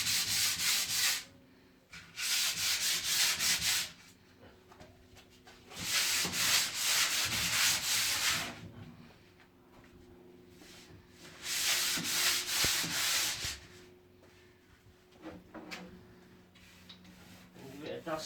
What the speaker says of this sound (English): we sand down in between every coat